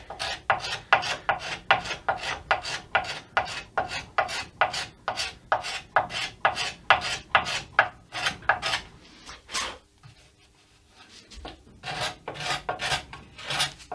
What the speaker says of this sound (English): You can scrape in all sorts of direction.